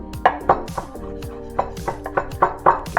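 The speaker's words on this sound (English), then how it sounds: "we're going to give these a little bit of a chop and place them right in there" Fresh herbs being chopped with a knife on a board for a Chicago deep dish pizza, a quick run of about ten close, crisp thuds in an uneven rhythm.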